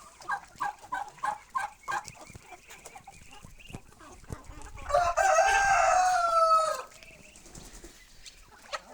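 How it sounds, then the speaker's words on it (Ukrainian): Roosters crow loudly nearby, with hens clucking in short bursts before and after, a busy farmyard chorus. "Ось такі наші курочки, півники."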